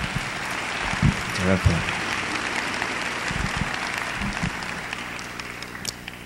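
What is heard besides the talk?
audience applause for the speaker at a conference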